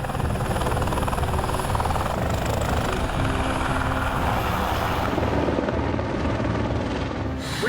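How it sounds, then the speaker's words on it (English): Helicopters flying in and out of a mountain base camp on the set of The Hobbit: a loud, steady rotor drone that fills the whole stretch, close by and with no talking over it. "There's just helicopters everywhere, and they're flying in and out all day from,"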